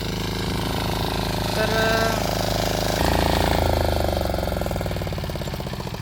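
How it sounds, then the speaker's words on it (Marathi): A 6.5 HP diesel farm machine engine runs steadily with a dense, continuous rattling drone that stays loud and close throughout. "ही आपली डिझेल मशीन आहे"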